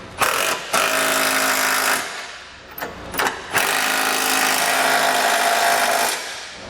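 A power tool snugs down the hardware of a Curt trailer hitch receiver on a 2019 Subaru Forester. It runs in loud, close bursts: a long run with a short gap, a brief blip, then another long, steady whine.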